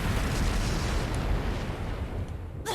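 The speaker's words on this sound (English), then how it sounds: "Flash grenade! Everyone down!" A flash grenade detonates in Trails of Cold Steel III with a loud, sustained roaring blast that fills the clip before cutting off abruptly at the end.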